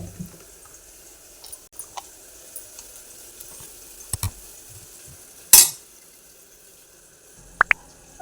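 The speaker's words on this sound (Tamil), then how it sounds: "கரண்டியை வச்சு நல்லா கொஞ்சம் மிக்ஸ் கொடுத்துக்கலாம்." Cooked beetroot stirred with a ladle in a pot, giving sparse soft scraping and a few sharp metallic clinks against quiet background, with no voice present.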